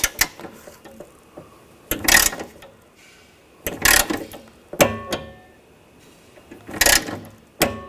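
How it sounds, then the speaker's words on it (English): Ratcheting clicks of a torque wrench snugging window regulator bolts to 89 inch-pounds on a 2000-2006 BMW X5, heard in several close, sharp bursts of rapid clicking separated by pauses. "We're going to torque these to 89 inch-pounds."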